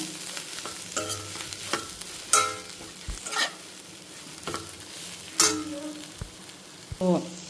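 Gongura curry frying in a pan is stirred with a utensil, giving a continuous close sizzle broken by several sharp scrapes and clanks against the pan at irregular intervals, with no speech.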